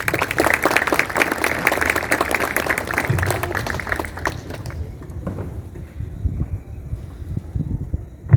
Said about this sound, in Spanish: Escucharemos de Francisco Bonifaz, a quien llamamos también con un fuerte aplauso.